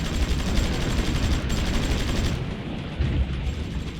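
Dense, continuous gunfire from battleships and troops in a Great War battle in Supreme Ruler Ultimate, a steady rumbling barrage of overlapping shots and booms without pauses for the full stretch.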